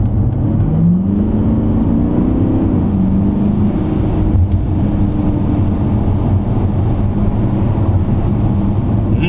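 A loud, close V8 engine of a Porsche Cayenne S drones steadily under hard acceleration, its pitch climbing briefly as it revs before holding at a heavy, sustained roar.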